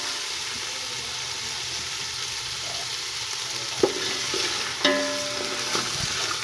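Peas fry in a pan with a steady, loud sizzle while a spoon stirs them. Occasional scraping knocks cut through the constant crackle.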